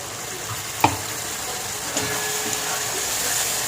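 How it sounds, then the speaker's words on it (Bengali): Chilli paste going into a pan of frying onion and poppy seed for Bengali posto, giving a steady close broadband sizzle with a soft thump near the start and a faint clink later, no voices. "এর মধ্যে এবার আমি লঙ্কা বাটা দিয়ে দেবো।"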